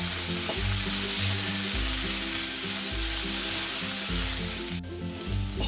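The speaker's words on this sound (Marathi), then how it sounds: "1 ते 2 मिनिट हाय फ्लेम वरती आपण छान अशा भाज्या सगळ्या परतून घेतल्या आहेत" Cabbage, capsicum and carrot stir-fried on high flame for veg hakka noodles, with a loud steady sizzle throughout and rhythmic scraping of a spatula stirring the vegetables in the pan.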